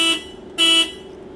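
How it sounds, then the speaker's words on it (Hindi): Two short honks from the horn of a TATA electric air-conditioned DTC city bus, a light, buzzy car-like tone, the first brief and the second longer, heard close with no talk. "और उसी के साथ में बड़ा ही क्यूट हॉर्न।"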